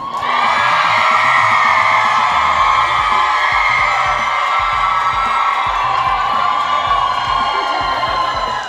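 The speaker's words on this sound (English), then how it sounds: "when I point, you scream" A comedy show audience screams together on cue, a loud sustained roar of many voices with whoops and yells from a packed crowd, lasting several seconds before tapering at the end.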